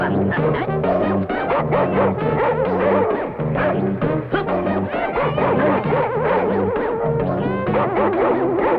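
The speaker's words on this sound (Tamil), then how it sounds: "ஏதோ பெரிய நாய் போல் இருக்கு." A big dog barks repeatedly in a dense, busy mix, yelps and whimpers over continuous music and voices throughout a comedy scene.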